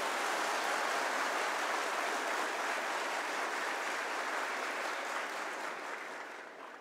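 Young men in a festival crowd at a Guru Purnima celebration break into loud, dense applause that holds steady for several seconds, then gradually tapers off toward the end, with no speech.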